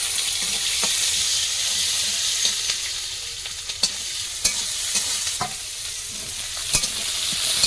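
Panch phoron and chopped onion fry in a little oil with a strong, continuous sizzle up close. Sharp clicks of a spoon stirring and scraping the pan come through now and then, with no voices.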